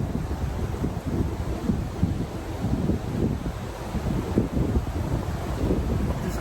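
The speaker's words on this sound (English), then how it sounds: "gusty wind is frustrating" Gusty wind buffeting the microphone on the bank of the River Nene while fishing, a constant low rumbling roar that swells and dips with the gusts, with no voices.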